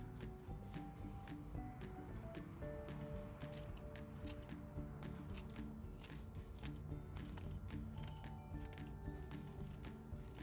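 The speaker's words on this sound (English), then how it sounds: "I just want to be able to cut it into sort of little flakes" Scissors snip strips into little flakes over a bowl, a quick steady series of faint, crisp cuts repeating close by against a soft background hum.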